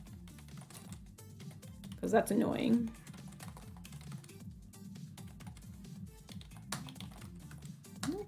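Someone types on a computer keyboard while entering values into a program, giving soft, quick, steady key clicks with a brief louder clatter, and someone talks briefly over it.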